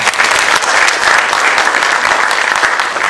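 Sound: audience applause

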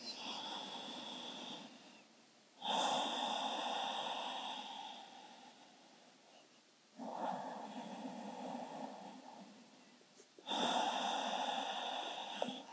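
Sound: deep breathing during yoga

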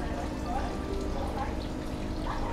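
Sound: water pouring into fish tank

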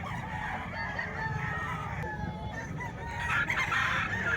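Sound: rooster crowing at a chicken market in Bukawi

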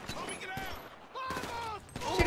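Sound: gunfire in a video game

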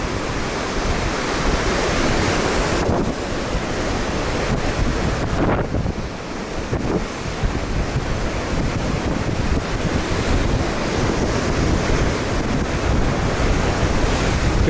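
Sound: sea waves and wind on a coastal trail

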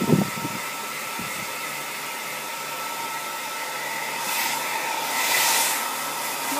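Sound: hair blower running

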